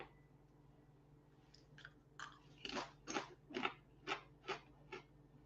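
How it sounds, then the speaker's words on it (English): Crunching bites of crisp lentil chips, about eight sharp chews in an even rhythm, close to the listener over a quiet background hum. "It's crunching on lentil chips."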